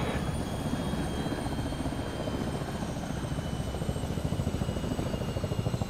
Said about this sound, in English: Demon 1, confirm rotor blades spinning.